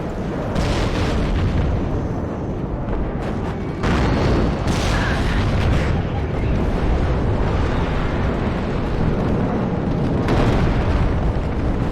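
Cluster bombs burst in rapid succession in WARNO, loud booming explosions piling onto one another with crackling, rumbling tails that fill the whole stretch without pause.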